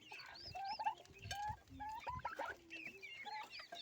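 A mother hen clucks repeatedly while feeding alongside her chicks on millet and chick starter, with high chick peeps overlapping throughout; steady, close and fairly loud.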